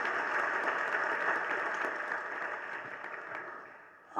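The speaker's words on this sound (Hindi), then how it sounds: "ये बीच बीच में तो आप लोग ताली बजाते हैं ना" A crowd claps during a Hindu religious discourse given by Vidhya Sagar Ji Maharaj, a steady, continuous wash of applause at moderate volume that softens slightly toward the end.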